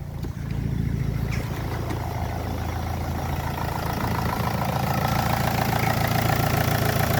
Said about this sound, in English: Obviously it's quite loud, old diesel, but now you can turn it off.